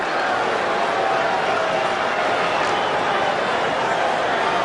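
A broad, steady roar of a baseball crowd at Dodger Stadium during a Mets–Dodgers game, with Mets fans and Dodger fans making noise together, a constant distant wash with no distinct claps or calls.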